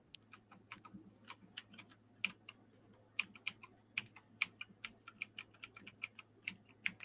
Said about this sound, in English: Can you hear my keys clapping?